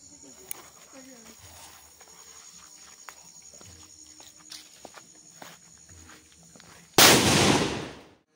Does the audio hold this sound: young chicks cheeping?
no